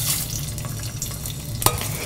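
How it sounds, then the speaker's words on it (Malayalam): Mustard seeds, curry leaves and dried chillies crackling and sizzling in hot oil for a pineapple pachadi tempering, a steady close hiss with a sharp pop near the end. "കടുക് പൊട്ടിക്കഴിയുമ്പോൾ കറിവേപ്പില, വറ്റൽമുളക് എന്നിവയിട്ട് വഴറ്റി നമ്മുടെ പച്ചടിയുടെ മുകളിലോട്ട് ഒഴിച്ചു കൊടുക്കുക"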